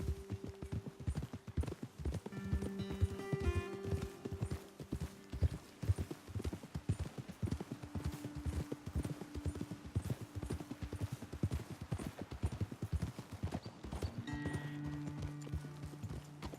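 Horses' hooves clip-clop steadily in Red Dead Redemption 2, a continuous close rhythmic clatter of several horses walking, with occasional snorts and faint tones beneath, no talk.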